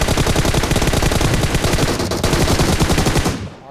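Loud, continuous automatic gunfire from PUBG Mobile, rapid shots rattling without pause for nearly four seconds before trailing off at the end.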